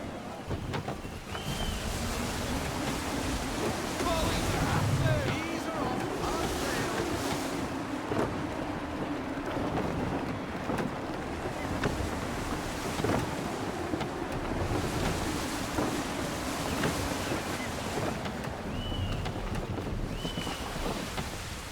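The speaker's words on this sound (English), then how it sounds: "Gusty winds can be difficult to manage." Gusty wind sweeping over open sea around a sailing ship in Assassin's Creed III, a steady broad roar with surging waves and creaking, sustained and fairly loud throughout with no talking.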